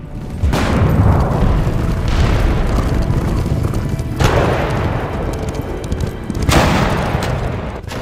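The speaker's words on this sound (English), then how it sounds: "On August 12, 1922, the Turkish forces bombarded the Greek positions." Artillery bombardment in a war documentary soundscape, with heavy booming explosions rolling continuously and fresh blasts swelling in every few seconds, loud and dense with no speech.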